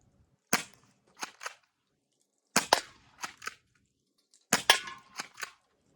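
Three bursts of sharp snapping shots from a Crosman PSM45 air pistol, each burst of two or three cracks spaced apart, fairly close and loud against a quiet background with no talking.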